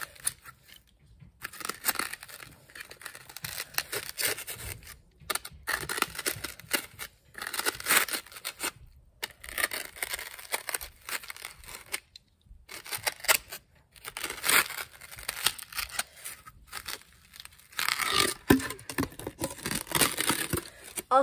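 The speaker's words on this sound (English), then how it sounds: "This is a box cutter that I'm using to cut foam." A box cutter blade slices through foam in repeated rough, scratchy strokes, fairly loud and close, separated by short pauses.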